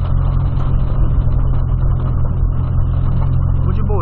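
A lowered car, a Polo, rolls along at low speed with a steady, loud low engine rumble throughout and a continuous road or wash noise; no distinct splashes stand out.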